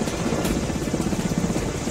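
A helicopter hovers with rotor blades spinning steadily during an NSG commando rooftop drill, producing a loud, continuous rhythmic thudding chop.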